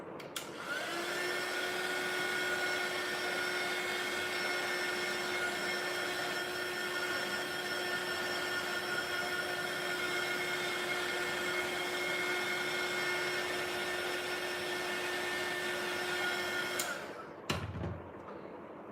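A hair dryer blows steadily to dry a painted craft piece, a loud continuous whoosh with a high motor whine that runs for about seventeen seconds, then cuts off abruptly.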